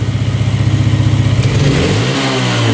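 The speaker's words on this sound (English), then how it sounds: "It's revving out pretty good too." Quad bike engine, recently repaired after a fault, revs hard up close with a rapid pulsing putter that climbs in pitch and then settles into a higher steady tone, loud and alone.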